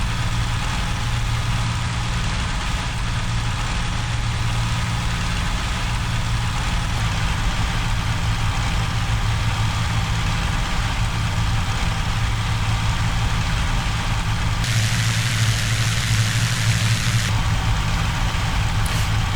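A P-40C fighter's engine in the IL-2 flight sim, throttled to economy at about 2500 RPM with 30 manifold pressure, drones in a steady, loud, continuous hum with no breaks.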